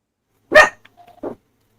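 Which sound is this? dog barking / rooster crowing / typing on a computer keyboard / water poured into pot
dog barking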